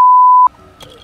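A loud, flat censor beep holds for about half a second and cuts off sharply, followed by quiet background rustle and a brief faint noise.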